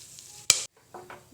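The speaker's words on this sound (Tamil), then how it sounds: "எண்ணெய் காஞ்சிருச்சு, அதில் எடுத்து வச்ச பட்டை, கிராம்பு, ஏலக்காய் போடலாம்." Cinnamon, cloves and cardamom drop into hot oil for green peas rice, giving one sharp burst of sizzle that cuts off quickly, then a softer brief crackle, close and alone.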